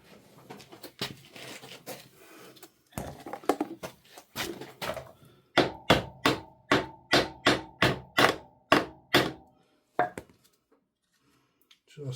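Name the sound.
hammering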